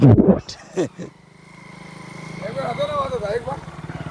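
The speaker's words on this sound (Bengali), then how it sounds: "এই আমার বাইক" A motorbike engine idles close by in a steady low putter that rises slightly toward the end, with a voice speaking over its start.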